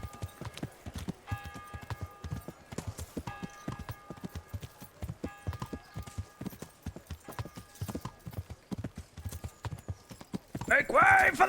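Horse hooves clip-clopping in a steady rhythm as a mount travels in a medieval video game, the regular thuds continuing throughout with faint game music behind.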